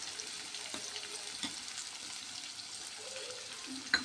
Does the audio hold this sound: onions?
yes